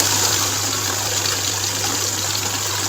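Running in add mode, a currency counting machine feeds banknotes through in one continuous, loud, fluttering whir over a constant low motor hum, close by and uninterrupted.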